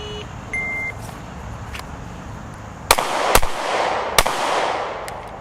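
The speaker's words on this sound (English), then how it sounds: "I shot a little bit low." A Smith & Wesson M&P Shield X pistol fires on an outdoor range with three sharp, loud shots spaced about a second apart, set after a short electronic beep, as from a shot timer.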